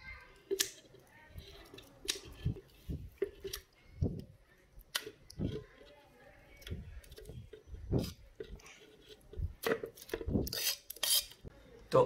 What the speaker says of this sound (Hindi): साथ में रख दिए थे केले को, कट लगा लेंगे, साबुत नहीं डालने केले।